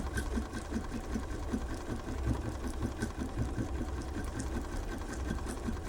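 A Bernina sewing machine stitches a heart pattern with a steady, rapid mechanical whir and rhythmic needle ticking, continuous and close.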